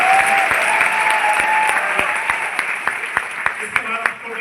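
An audience at a success-story talk in Bhagalpur, Bihar claps together. A steady crowd applause gives way to sharp, evenly spaced unison claps in a rhythmic beat, with a voice speaking over them.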